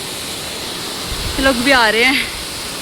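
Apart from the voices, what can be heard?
waterfall in Sainj Valley, Himachal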